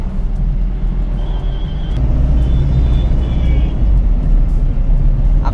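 A car drives along a city road in Hyderabad's Hitech City while turning around, giving a loud, steady low engine and road rumble heard from inside with faint traffic around.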